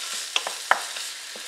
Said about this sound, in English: I'm going to saute this until the turkey is completely cooked